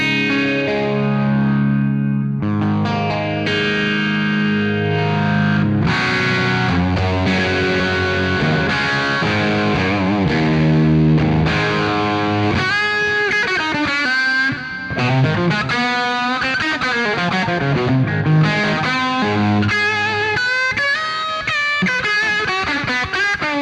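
Electric guitar played through a BRBS Vintage Class 3+ amp on its twang channel, ringing chords and bright single-note lines with chorus-like shimmer and slight grit, loud and continuous, no speech.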